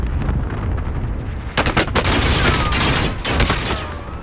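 A cluster strike in a video game lands amid rapid gunfire: dense, loud bursts of shots and booming blasts crackle continuously, with several sharp explosive impacts clustered together in the middle.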